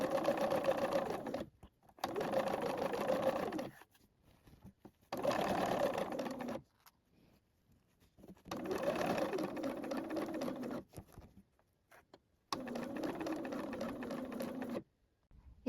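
A sewing machine stitching a facing on a Fibre Mood Jill dress runs in five steady buzzing bursts of a few seconds each, separated by short quiet gaps.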